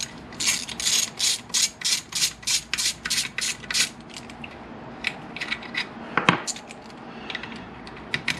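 A ratchet works loose the 8mm water pump housing bolts on a 1998 Kawasaki ZX9R motorcycle, giving a close run of quick regular clicking bursts, then a single sharp clank and quieter scattered clicks.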